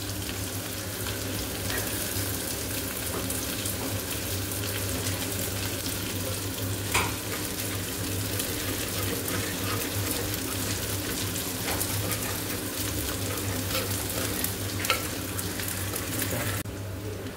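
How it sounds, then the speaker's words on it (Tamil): Onion, green chilli, garlic, cumin and mustard seeds sauté in hot oil, a steady close sizzle running unbroken for the whole stretch with faint occasional stirring clicks and no talking. "வெங்காயம், பச்சை மிளகாய், பூண்டு, சீரகம், கடுகு போட்டது எல்லாம் நல்லா வணங்கிருச்சு."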